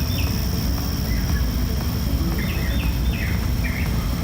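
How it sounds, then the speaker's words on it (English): Birds sing outdoors in a quiet small town southeast of Dallas, Texas, near water, a few faint chirps and short whistled calls scattered over a loud steady rumbling background. "You can hear the birds."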